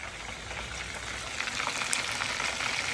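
Chicken sizzles and crackles in hot oil, a dense steady frying hiss with popping that grows a little louder partway through.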